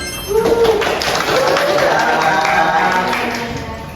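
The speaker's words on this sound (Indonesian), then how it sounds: "kita beri tepuk tangan buat Kak Andin." A small audience claps for a guest at an Indonesian podcast recording, with steady close applause running for several seconds while a voice carries over it.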